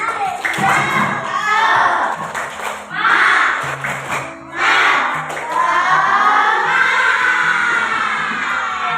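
A classroom of children performs a rhythmic spirit clap, bursts of patterned clapping mixed with loud shouted chanting, repeated in several rounds with short pauses between.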